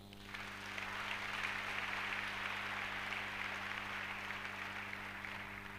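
Sustained applause from a church congregation acclaiming Jesus during a pastor's sermon, a broad steady wash of many hands clapping that swells quickly and holds for several seconds at moderate distance, alone without speech.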